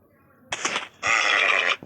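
Sheep bleating in the Minecraft video game: two short, close bleats, the second longer and steady, clear and alone.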